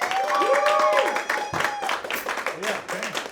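Audience clapping for children at a summer camp performance, a steady broad wash of applause lasting a few seconds with voices and shouts mixed in over it.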